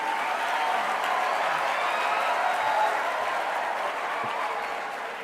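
An audience applauds teachers at a motivational talk, dense continuous clapping that holds steady and then slowly fades near the end.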